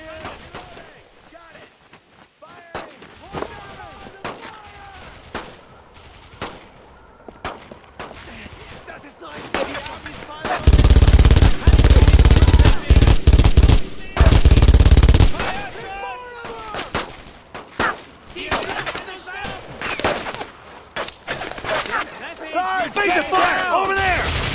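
Heavy gunfire from a World War II squad battle in Brothers in Arms: Road to Hill 30, a loud dense burst of rifle and machine-gun shots in the middle stretch, with shouted voices and scattered shots around it.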